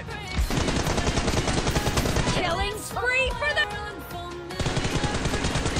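Automatic weapon fire in the PUBG battle royale game during a team deathmatch, sustained rapid bursts that break off briefly around the middle before resuming, loud and continuous with game effects mixed in.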